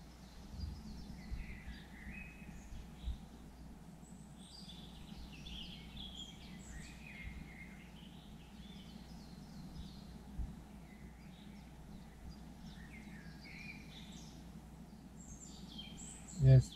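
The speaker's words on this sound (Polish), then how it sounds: "Ptaszki ładnie śpiewają," Small birds chirp and sing faintly outdoors beside a reservoir, scattered calls recurring throughout over a low steady background hum, with a brief louder knock at the end.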